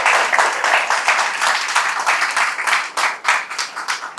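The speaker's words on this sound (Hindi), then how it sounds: "जोर से तालियां बजाइए पिता परमेश्वर के लिए" A church congregation applauds loudly, a dense sustained wash of many hands clapping that swells and fades slightly without pause.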